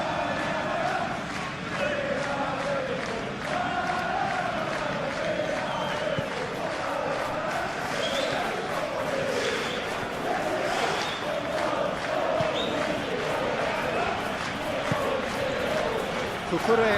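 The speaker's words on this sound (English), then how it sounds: "but it certainly got the crowd going" Stadium crowd noise in the PES 21 football video game during a Premier League match between Liverpool and Chelsea, a dense continuous roar with rising swells throughout.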